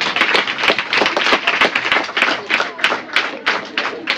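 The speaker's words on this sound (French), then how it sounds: "Je veux nommer M. Kevin Rez, que je vous demande d'applaudir très fort." An audience at a youth quiz final gives sustained, dense applause, many hands clapping steadily throughout at close range with no voices standing out.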